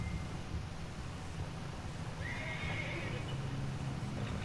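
In Red Dead Redemption 2, a horse whinnies briefly over a constant rumbling wash of noise, like hooves pounding and wind, loud and unbroken throughout.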